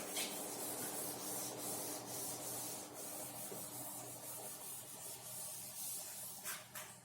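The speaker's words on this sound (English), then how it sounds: "so let me rub this out" Writing is rubbed off a board with steady, close scrubbing strokes, a continuous brushy friction that rises and falls slightly in rhythm, alone without talk.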